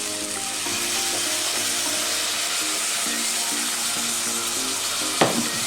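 Red onions sizzle in a pan after balsamic vinegar is added, a steady, close frying hiss with soft stirring and faint tonal hum beneath, plus one brief sharp clink near the end.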